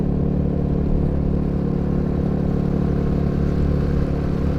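Steady mid-pitched engine drone of a Royal Enfield Himalayan 450 motorcycle being ridden, a constant low rumble with wind noise, no distinct gear change audible.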